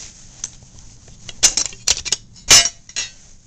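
An AK-47 rifle being taken apart, its metal parts giving several sharp clinks and clacks in an irregular rhythm, close by and fairly loud against a quiet background, with no talking.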